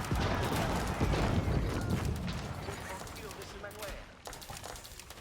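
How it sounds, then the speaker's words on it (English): Explosion and battle effects in the real-time strategy game Age of Empires 4 during a pro match, a dense roar of blasts and crackling gunfire-like bursts, loud and continuous, fading slightly toward the end. "I think we might have had a premature explosion out of Kasva."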